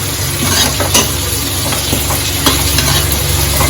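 Masala with green chili and coriander sizzles loudly in a pan while being roasted, with a steady close frying hiss, occasional scrapes of stirring and no voices.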